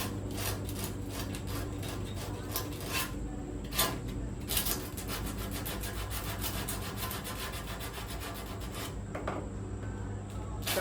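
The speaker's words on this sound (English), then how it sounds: "So take this coarse 40 grit or 36 grit, and we'll clean this up." Coarse 40 or 36 grit abrasive sanding metal on a car floor during welding repair: a continuous, loud, even grinding-rasping roar with scattered bursts of harsher scraping.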